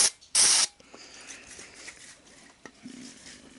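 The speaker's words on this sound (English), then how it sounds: "I'm gonna go ahead and spray some cleaner down in there" Contact cleaner hisses in a short loud burst into a switch on a Sony SL-HF600 Betamax deck being repaired, followed by faint clicks and small handling noises, with no one talking.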